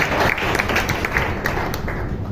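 A church congregation claps together during a sermon, a dense, fairly loud patter of many hands sustained across the moment, with no clear talking over it.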